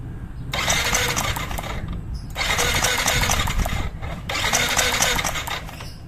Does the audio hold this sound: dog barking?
no